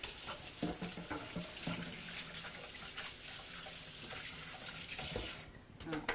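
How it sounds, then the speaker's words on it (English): Hands rinse under a running kitchen tap during cooking, a steady splashing stream that shifts in texture as the hands move through it, fairly quiet throughout. "I'm going to just take a second to wash my hands off here, rinse that off a little bit"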